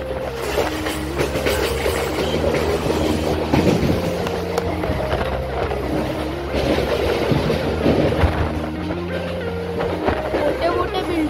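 A Mumbai local train between CSMT and Kurla hums and rumbles loudly from on board as it accelerates, with a steady rising motor tone and rattling carriage noise throughout.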